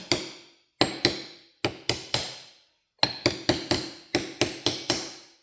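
Sharp metallic hammer taps drive a synchronizer part onto a John Deere 3010 tractor top shaft, coming in quick clusters of two to four blows separated by short pauses, close and clear with no talking.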